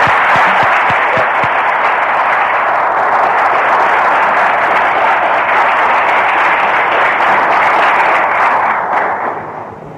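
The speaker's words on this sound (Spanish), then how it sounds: "lo recibimos también con un aplauso de agradecimiento" Loud, dense audience applause rolls on steadily for about nine seconds at a Catholic youth talk, thick with overlapping claps, then fades quickly at the end.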